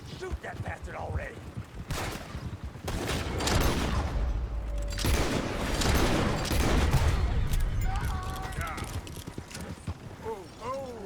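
A gunfight in Red Dead Redemption 2 against United States Army soldiers, with repeated sharp gunshots in bursts, horse hooves clopping and creaking tack, and voices shouting over the action.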